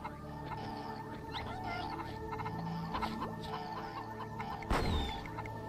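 A chicken clucks in the video game Mort The Chicken, with short clucks over a busy game soundscape and a sharp burst near the end.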